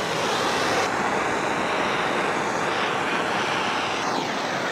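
A torch roars steadily as it burns a carved wood surface for texture, a loud, continuous broadband hiss close by, with no voices over it.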